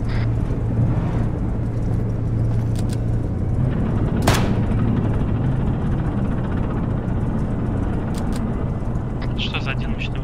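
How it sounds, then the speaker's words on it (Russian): A single sharp, powerful large-calibre gunshot in the video game ArmA 3 cracks out from a steady engine rumble of game vehicles, with faint distant clatter afterward. "Что за один мощный выстрел был сейчас?"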